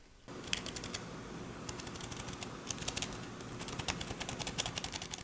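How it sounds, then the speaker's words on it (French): Continuous typing on a RiiTek MWK12 wireless keyboard with a thin metal back, a steady run of soft, fairly quiet key clicks heard up close and alone. "L'appui sur les touches est plutôt sympathique aussi, c'est pas trop bruyant"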